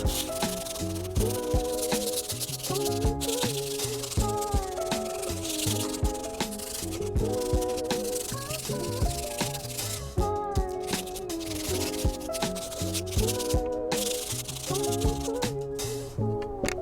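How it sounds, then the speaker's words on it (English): Repeated rough rubbing strokes of grip tape sanding skateboard edges, rhythmic and close, running under a background of music. "Next up we have is just sanding the edges"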